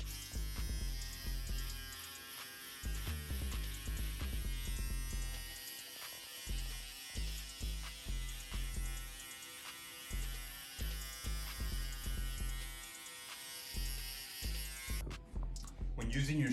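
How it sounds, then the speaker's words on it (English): An electric shaver buzzes steadily while finishing a low taper Edgar haircut, a close, continuous hum broken by short dips and bursts as it is moved over the skin. "we're going to use our shaver again, and just to give it more razor skin type look."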